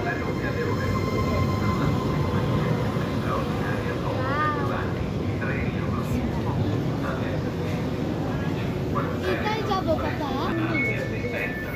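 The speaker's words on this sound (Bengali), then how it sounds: "এই তো আমাদের ট্রেন চলে এসেছে।" A crowded passenger train arrives at a station platform in Italy, its steady rumble and squealing wheels running continuously beneath people talking nearby.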